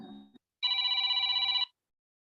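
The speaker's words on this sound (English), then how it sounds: "The background noise is somebody here has their phone on." A phone left on in a room during a class rings loudly with one sustained electronic trill lasting about a second, clear and alone after a brief faint tone.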